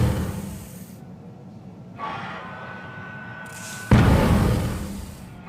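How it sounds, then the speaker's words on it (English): A new energy explosive weapon fires in the video game ARC Raiders: a rumbling, hissing blast swells, then a heavier boom bursts and rolls out, loud and noisy with no speech. "So that is the sound of the new weapon, some kind of energy explosive weapon"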